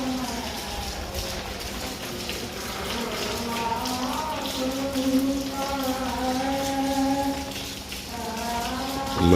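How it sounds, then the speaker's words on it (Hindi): Heavy, persistent rain pours down outside during Ramadan, flooding the lanes with water. A steady wash of rainfall runs throughout while voices talk over it. "फिर उसी तरह बारिश है।"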